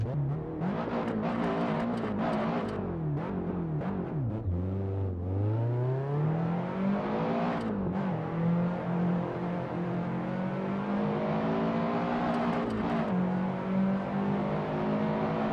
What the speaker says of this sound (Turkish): Evet arkadaşlar BMW M3 E30 kasa aldık.